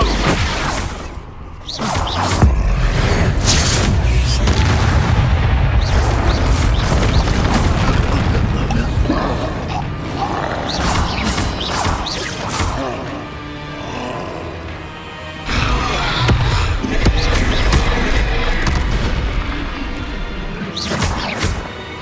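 Expulso spells detonate in Hogwarts Legacy, producing loud, dense blasts, roaring rumbles and whooshing bursts that churn almost nonstop, with brief lulls between heavy impacts.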